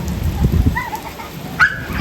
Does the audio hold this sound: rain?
yes